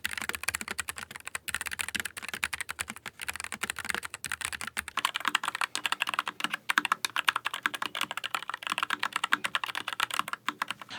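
Typing on a low-profile mechanical keyboard, a 96% layout with Gateron Low Profile 2.0 brown switches: rapid, continuous clacking keystrokes in close, dense bursts with brief pauses, no voices.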